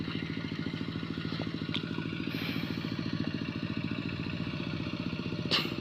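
A vehicle drives down through knee-deep water. Its engine makes a steady, rapidly pulsing drone close by, with a faint rattle and no talk.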